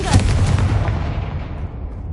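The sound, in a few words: Confringo explosive spell blast in a video game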